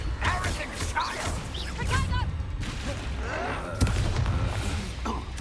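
Spell-casting combat in Hogwarts Legacy: repeated magical blasts, thuds and crashes from fired spells mixed with game dialogue and continuous battle noise.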